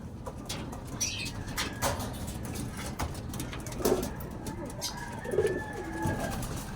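A racing pigeon coos softly a few times against light rustling and scattered clicks, with brief wing flutters nearby.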